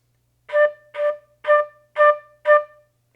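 Five clean, evenly spaced Irish flute notes, softly tongued with regular tonguing and separated by short gaps, played alone with no voices.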